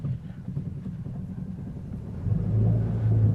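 A 1965 Jaguar S-Type with its 6-cylinder XK engine gives a low, close rumble that swells noticeably louder midway as the car pulls away, with no talking.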